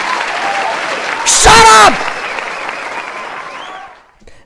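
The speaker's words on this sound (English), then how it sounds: "Can you stop clapping for like 2 seconds?" An audience claps steadily throughout, with a loud voice cutting in briefly over the applause before it tapers off near the end.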